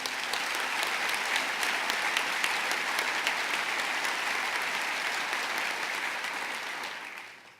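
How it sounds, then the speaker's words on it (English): A crowd applauds steadily with dense, sustained clapping that fades out at the end. "let's give them a round of applause"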